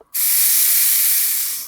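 A short burst of compressed air is blown into a car gear shifter to push out leftover WD-40, starting abruptly after a brief silence as a sharp, close, airy hiss that holds steady, then tapers slightly at the end.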